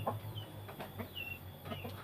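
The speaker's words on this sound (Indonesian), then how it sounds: "Tuh sekarang dalam 1 hari aja udah bisa kukuruyuk gitu teman-teman ya." A rooster clucks and calls in a farm setting, several short fowl sounds at moderate distance over a steady background hum, with no talk.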